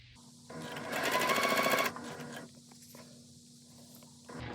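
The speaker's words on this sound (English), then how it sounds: "I'm just going to keep on chain piecing these little babies up" A sewing machine chain-pieces small quilt pieces with a 1/4 inch seam, running in a fast rattling burst for about a second and a half before stopping, followed by quieter handling and a brief restart.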